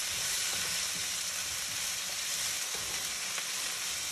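Baby corn fries in a wok on high heat, a steady, even sizzle with faint stirring clicks, fairly quiet and with no voices.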